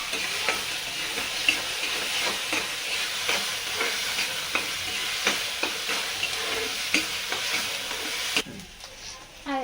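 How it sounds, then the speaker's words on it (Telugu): Onion, green chili and ginger paste fry in a pan under a steady close sizzle. A spoon stirs through them in quick, repeated strokes, and the sizzle drops away near the end. "ఉల్లిగడ్డ పచ్చిమిర్చి అల్లం పేస్ట్ బాగా వేగింది"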